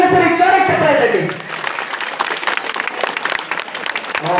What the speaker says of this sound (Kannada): ಅಂಬೇಡ್ಕರ್ ಅಂದ್ರೆ ಎಷ್ಟು ಇಷ್ಟ ಅಂತ ಇನ್ನೊಂದ್ಸರಿ ಜೋರಾಗಿ ಚಪ್ಪಾಳೆ ತಟ್ಟಿ.